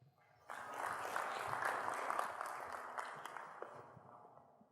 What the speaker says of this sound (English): Let's all give a big round of applause for Mr. Patrick Grillo.